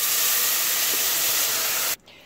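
Vinegar poured into a hot cocotte to deglaze after browning lamb chops, giving a loud, steady broadband sizzle that holds for about two seconds, then cuts off abruptly to a quieter hiss.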